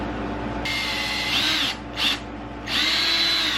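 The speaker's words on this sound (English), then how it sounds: "I want to take this little block and do a pre-drill straight through here" Cordless power drill boring a pre-drill hole straight through a small wood block in a workshop, two sustained whirring bursts separated by a short blip, close and loud.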